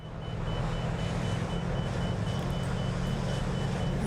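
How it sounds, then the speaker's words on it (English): A repeating cockpit warning beep sounds inside an airliner in Microsoft Flight Simulator 2024, an evenly spaced chain of short tones over a constant, loud engine and airflow drone. "What just caused that beeping?"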